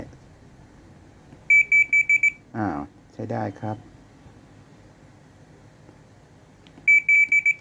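Two bursts of short electronic beeps from a home air conditioner control board under repair, four quick tones each, separated by someone speaking briefly in between, over a quiet background.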